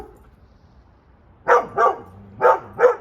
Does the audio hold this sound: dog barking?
yes